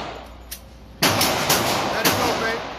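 Shots from a Canik TP9 Elite SC pistol at a shooting range ring out as three or four sharp, loud reports spaced about half a second apart, with a fainter shot before them and voices in the background.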